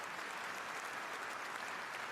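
Soft, dense applause from the hall at the 2024 Eastern Economic Forum, even and continuous, heard at a distance for a couple of seconds.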